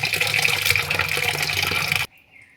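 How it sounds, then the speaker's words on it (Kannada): Garlic cloves are rinsed in water for a ginger garlic paste, making a loud, continuous splashing wash close by that cuts off abruptly, leaving near silence. "ಬೆಳ್ಳುಳ್ಳಿ ಪಾಕ ನೀಟಾಗಿ ತೊಳ್ಕೊಳ್ಳಿ ನೀಟಾಗಿ ತೊಳ್ಕೊಬೇಕು"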